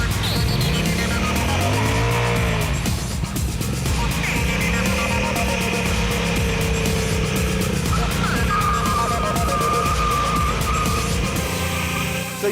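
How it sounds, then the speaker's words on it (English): A 2014 Yamaha Super Tenere motorcycle engine revs hard to max with traction control off and holds at high pitch, its tone rising and falling as the rear wheel spins, loud and close throughout. "the engine will go to max revs, it'll spin the back wheel"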